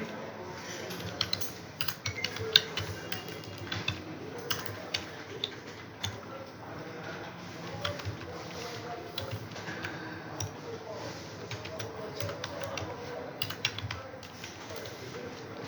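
Python code being typed on a computer keyboard, with quick irregular key clicks in bursts, close and moderately loud, continuing steadily without pause.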